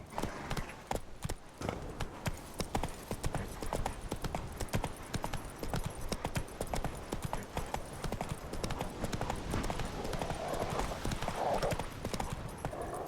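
Roach, the horse in The Witcher 3 video game, gallops in a steady rapid clip-clop of hooves that runs unbroken throughout, with a brief whinny near the end.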